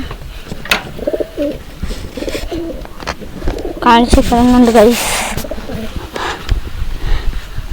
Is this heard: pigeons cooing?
yes